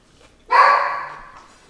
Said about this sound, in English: Now she'll bark.